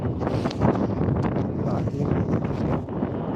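Wind blows outdoors in a garden, buffeting the microphone with a steady, loud, rumbling roar that continues throughout.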